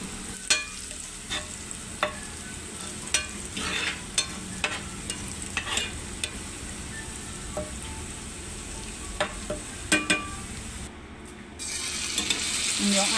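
Shrimp bouillon cube sautéing in a pan for a pares dish: a steady close sizzle broken by repeated sharp scrapes and taps of a utensil stirring, with no talking.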